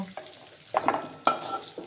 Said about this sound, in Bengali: ভাজা তো হয়েই গেছে কালারটাও খুব সুন্দর এসছে